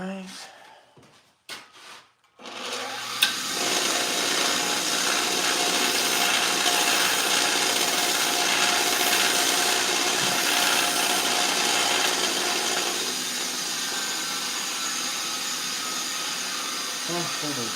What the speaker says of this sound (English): sharpen this tungsten up a little bit